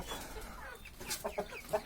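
A few soft clucks from a rooster, close by but quiet, short and irregular over faint background noise.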